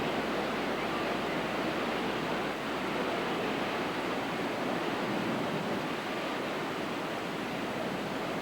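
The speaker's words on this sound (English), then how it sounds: "The waves are coming all the way here?" Steady roar of heavy surf pounding the West Maui coast during Hurricane Iniki in 1992, a continuous broadband wash with no voices, moderately distant and unbroken.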